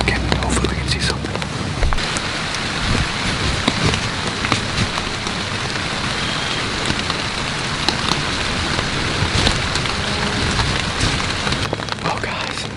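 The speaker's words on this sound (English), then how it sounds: "It's raining, it's pouring." Heavy rain pours steadily outdoors beside a cornfield at night, a dense, loud, continuous hiss of drops with no talking.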